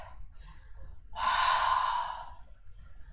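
A long, deep breath pushed out during a seated yoga twist, a soft breathy rush that swells and then fades, heard alone against quiet room tone.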